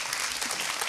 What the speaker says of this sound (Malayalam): ഓക്കെ, എല്ലാവരും കൈയടി കൊടുക്കൂ.